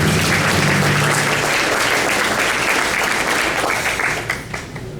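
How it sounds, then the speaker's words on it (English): Audience applause at a 2012 college graduation ceremony for Red Lake Nation College, a sustained dense clapping from a large crowd that holds steady and then tapers off near the end. "let's give all the families and friends a big round of applause"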